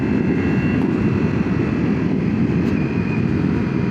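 A Ducati Multistrada motorcycle rides along an Alpine road in the Dolomites, with a continuous loud engine drone mixed with heavy wind rush.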